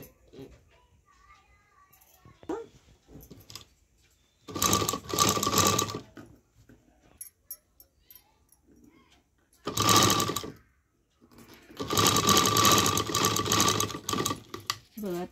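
A sewing machine stitches princess-cut blouse pieces in three loud, close bursts of rapid mechanical whirring, separated by quieter stretches with a little handling noise.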